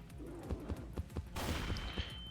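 Shotgun blasts in the Roblox-style game Piggy Rush fire in a quick rhythmic series of booming shots, followed by a brighter burst of noise and a thin electronic tone.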